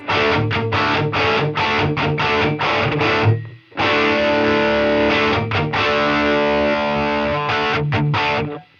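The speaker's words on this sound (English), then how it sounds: "it puts it in a small space" Heavily distorted electric guitar run through a modeled amp and Helix cab with small-room reflections blended in, playing tight chugging riffs broken by a brief pause and ringing chords, loud and alone.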